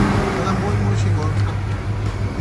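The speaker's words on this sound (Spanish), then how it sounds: "ya saben cómo el cambio de stock a ya con un Flowmaster serie 40, de serie 40 para motores V8" A V8 engine breathing through a Flowmaster Series 40 muffler gives a steady, close, deep exhaust rumble that holds level throughout, with voices faintly beneath it.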